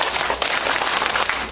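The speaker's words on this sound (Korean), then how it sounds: "자, 집중의 박수 시작!" An audience at a lifelong learning festival conference claps together in a short burst of dense, fairly loud clapping, with no clear rhythmic pattern.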